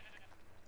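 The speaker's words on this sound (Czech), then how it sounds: "Mám tady poměrně dost ovcí" Sheep bleating in the video game ARK: Extinction, a short, fairly faint bleat heard with speech present.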